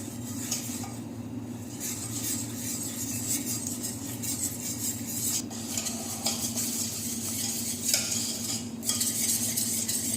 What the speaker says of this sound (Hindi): इसमें थोड़ा थोड़ा करके दूध ऐड करूँगी ताकि इसमें गुठलियाँ नहीं बने। इसको साथ साथ आप हिलाते जाएंगे।